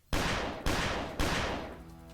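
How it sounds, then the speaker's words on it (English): Three sharp gunshots ring out in the visual novel Piofiore: Fated Memories, evenly spaced about half a second apart, each a loud crack followed by a long echoing decay, with no voices. "Gunshots resounded through the air."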